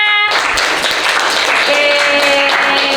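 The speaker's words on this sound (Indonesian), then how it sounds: "tepuk tangannya" A classroom group claps together in a loud, steady burst of applause lasting a few seconds, with a faint voice and tonal hum underneath.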